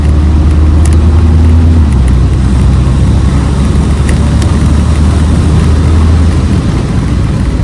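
A Morgan Plus Four car pulls away with a loud, steady low engine drone, the revs rising and then dropping as it shifts through its gears smoothly under light throttle, the engine holding a broad rumble throughout.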